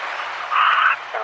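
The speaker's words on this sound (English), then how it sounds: "The crowd goes wild." A brief, dense burst of crowd cheering and applause swells in the middle for about half a second, then eases off.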